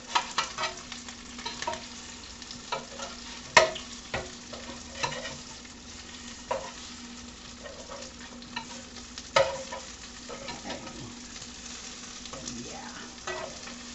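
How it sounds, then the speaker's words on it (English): Meatballs browning in a frying pan for a keto meatball stroganoff, a steady close sizzle with a low constant hum and scattered sharp clicks and scrapes, no talking. "these are browning up really good"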